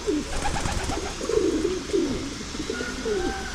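Breeder pigeons coo in a low, throaty series of rolling calls, several overlapping phrases close by over a steady background hum.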